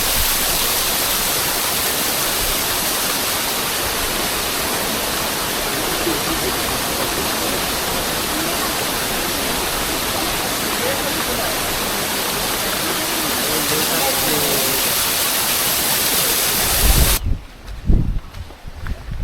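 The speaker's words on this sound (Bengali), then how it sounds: "এই যে ঝর্ণাটা," A monsoon waterfall at Kataldhar near Rajmachi fort in Maharashtra roars as a steady, loud, close broadband rush for most of the span, then cuts away to quieter outdoor ambience with a few thumps at the end.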